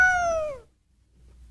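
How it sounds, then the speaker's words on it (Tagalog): A cat gives one clear, drawn-out meow that falls in pitch toward the end, loud and near, followed by a faint, quiet background. "Pusa naman pala."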